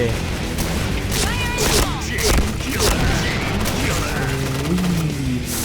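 A bomb gun fires repeatedly in the online shooter Point Blank, with dense, booming shots and blasts rolling through the whole stretch, while someone talks over the gunfire.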